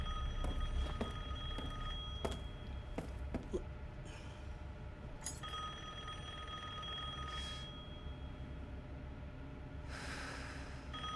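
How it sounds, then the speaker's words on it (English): Bells ring in Resident Evil Village, a series of sharp metallic strikes spaced irregularly over a low ambient drone, with a lingering tonal hum between hits and breathy noises near the end. "All right, bell ringing."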